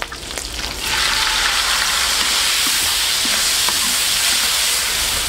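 Yellow lantern chili sauce is tipped into hot oil with shrimp heads and flares into a loud, dense, close sizzle that starts abruptly and holds steady, with no talk over it.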